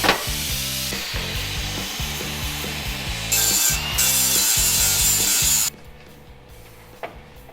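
Metal parts being cut for a Jeep strut install, heard as a steady, rhythmic back-and-forth sawing stroke that repeats for several seconds, loud and close, then stops abruptly.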